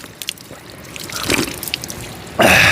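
Water trickles steadily from a village spring in the Uttarakhand hills, a soft continuous splashing that swells into a louder, fuller gush near the end.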